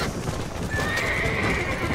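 Horse galloping in Red Dead, quick clip-clop hoofbeats and a close, loud whinny, with no talk over it.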